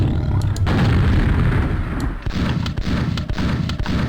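A rocket blast in a video game sets off heavy booming explosions with rumbling debris, followed by sharp cracks and thuds that fade slightly, loud and close, with no talk.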